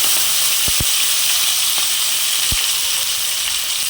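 Tomatoes dropped into hot oil set off a loud, continuous sizzle. A few sharp knocks of a utensil against the pan cut through the steady frying hiss.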